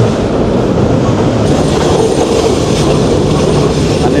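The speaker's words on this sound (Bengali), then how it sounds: "ট্রেন চলছে ট্রেন চলছে" A Jayantika Express passenger train on the Dhaka to Sylhet line runs along the rails, giving a loud, steady, close rumble and rattle that continues unbroken throughout.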